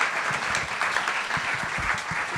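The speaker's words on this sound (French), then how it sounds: "Je vous demande d'applaudir Yannick et Evelyne." Audience members at a Haitian gathering marking ten years since the earthquake applaud for two guests, Yannick and Evelyne, producing a steady, moderately loud patter of many hands with a few sharper individual claps.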